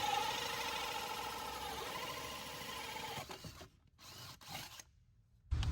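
A power saw cuts steadily through pontoon boat vinyl flooring, a loud continuous whine for about three seconds, then it stutters and stops in short bursts with near silence between, ending in a sudden thump.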